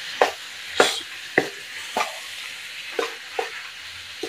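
Okra frying with tomato in a pan, cooked plain without red chili or spices: a continuous sizzle under a steady rhythm of about eight spatula scrapes and knocks as the mixture is stirred, close and fairly loud.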